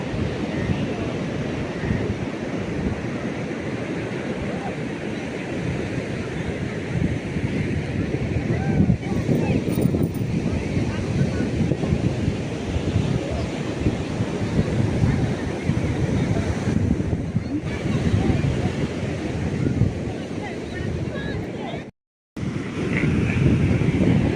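Steady sea surf and gusting wind at Appikonda beach in Vizag, a continuous loud wash of breaking waves with wind buffeting the microphone throughout, briefly cut off near the end.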